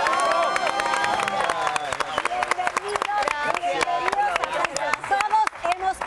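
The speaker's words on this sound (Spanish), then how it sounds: "hoy le vamos a dar el mejor de los aplausos a mis paisanos" A television studio audience gives a big round of applause and cheers for the Argentine duo Pimpinela, the clapping loud and dense throughout with crowd voices mixed in.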